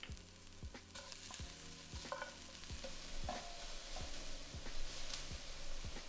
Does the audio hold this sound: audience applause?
no